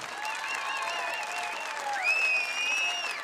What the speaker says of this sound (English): On les applaudit bien fort, ils viennent de Croatie.